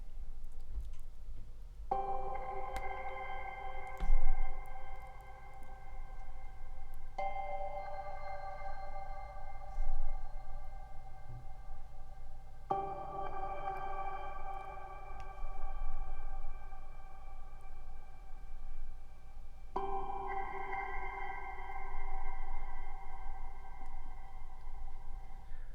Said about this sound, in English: when I scroll down, we have a sound that triggers